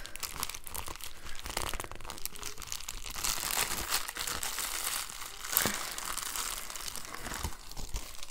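Paper from an Amazon package crinkles and rustles up close as it is folded in half, with continuous crumpling and a few sharper crunches, no talking.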